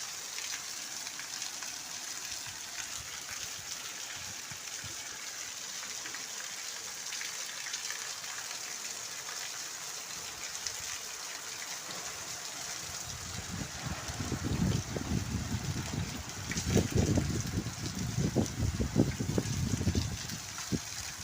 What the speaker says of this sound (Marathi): तुम्हाला पहा आवाज येत असेल पावसाचा